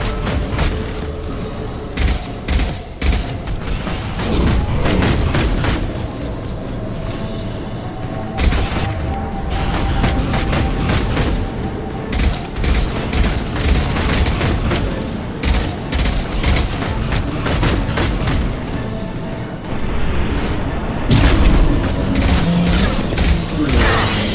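Heavy weapons fire and explosions in the sci-fi shooter Mass Effect 2, a relentless loud barrage of rapid gunshots and booming blasts filling the whole stretch with no pauses and no voices.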